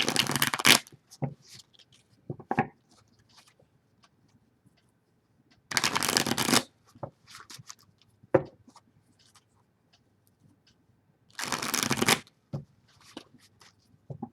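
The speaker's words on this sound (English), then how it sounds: "Now let's pull some tarots, and we'll pull some tarot cards to give us some more insight on your energy." Tarot cards are shuffled in three separate bursts of riffling, each under a second long, with faint taps and card handling in the quiet gaps between them.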